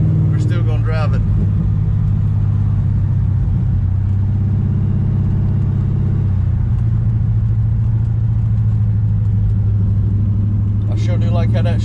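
A 1968 Dodge Charger in limp mode running with a deep, loud, steady low rumble throughout, up close, while someone talks briefly at the start and end.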